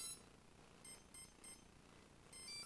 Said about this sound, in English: See if there's two beeps.